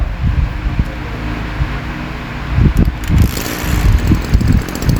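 Small engine of a pesticide sprayer being started and running, a steady mechanical drone with uneven bursts and sputters as it catches, close and loud without talk.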